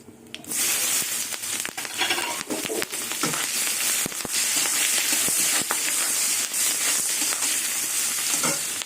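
Green chilies and onion sizzle in hot oil with nigella seeds, a loud steady frying hiss with crackles and occasional stirring clatter close by, no voices over it.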